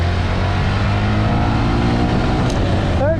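An engine runs loud and steady while the vehicle drives in second gear, a constant low droning rumble close up that shifts pitch at the very end.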